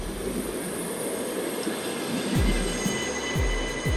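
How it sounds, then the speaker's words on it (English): Ukrainian railway carriages roll past close by in a steady rumble, with wheels clacking rhythmically over rail joints near the end. "Those are Ukrainian carriages."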